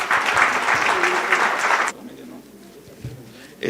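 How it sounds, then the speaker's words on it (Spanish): Audience applause for panelists at an education conference, a strong burst of clapping that cuts off abruptly partway through, leaving quiet room tone with faint low voices. "vamos a cerrar con un fuerte aplauso para nuestros panelistas"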